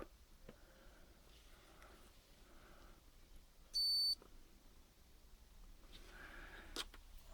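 A single short electronic beep from a multimeter diode test on Schottky diodes in a power supply sounds briefly amid a quiet room with faint handling noises.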